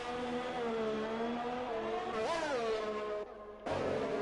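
Race cars in a racing video game at Austria, a Ferrari spinning, with steady high-pitched engine whine that rises and dips in pitch, a sharp swell as revs climb, then a brief drop-out before the roar resumes.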